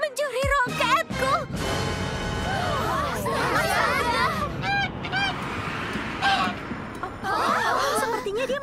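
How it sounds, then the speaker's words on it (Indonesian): A cartoon goose honks repeatedly and loudly in excited, squawking bursts, mixed with chuckling and lively animated sound effects, with no speech over it. "ada angsa yang lari lewat sini"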